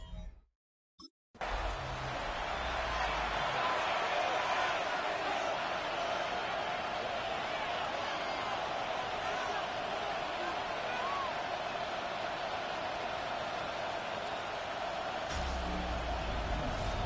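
A Madden 26 stadium crowd at Lambeau Field roars steadily for a long stretch as a dense, loud, constant wash of cheering, with a brief cut at the start and no clear talking over it.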